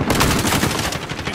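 Dense, continuous automatic gunfire from a Call of Duty Warzone match, rapid overlapping bursts with no pauses, loud and close, with no talk.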